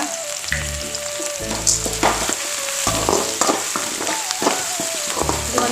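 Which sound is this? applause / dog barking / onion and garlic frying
onion and garlic frying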